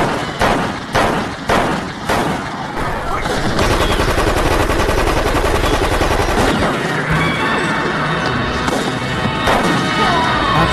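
Bursts of gunfire in a film scene as an agent shoots thieves trying to take a dinosaur fossil head: several loud separate shots, then dense rapid automatic fire with crashes, and faint voices mixed in.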